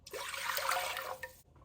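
Water poured from a measuring cup into a pot of vinegar for refrigerator dill pickle brine, a short steady splashing pour of about a second that cuts off abruptly, heard alone.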